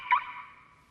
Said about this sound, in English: conventional cars have a locking sound like this